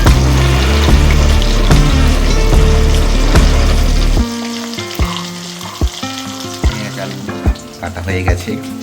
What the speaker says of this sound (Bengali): মশলা ভেজে তারপরে জল দিয়ে এবার মাছগুলোকে ছেড়ে দেওয়া হলো।